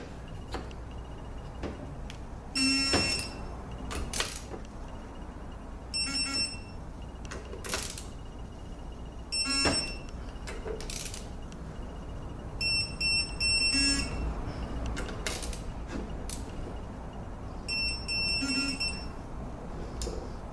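A GearWrench digital torque wrench beeps while transmission pump bolts are tightened to 15 foot-pounds in a crisscross pattern during a 722.6/NAG1 rebuild. Several clusters of short, bright electronic beeps recur over a low workshop hum.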